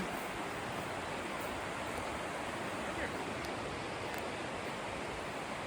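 The river at Quesnel Forks, a ghost town in British Columbia, rushes in a dense, continuous roar, running high and eroding its banks, steady and loud with no pauses.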